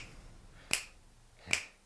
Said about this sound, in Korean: 딱 소리 들리지?